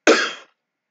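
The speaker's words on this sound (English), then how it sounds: "Instead, I coughed." A single sharp, close cough bursts out and fades within half a second, followed by silence.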